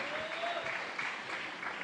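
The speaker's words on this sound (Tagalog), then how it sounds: "Malakas na palakpak para sa Panginoon." A church congregation claps for the Lord during a Lord's Supper service, a dense steady patter of many hands at moderate distance, fairly quiet and continuous.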